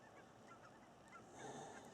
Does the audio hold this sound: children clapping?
no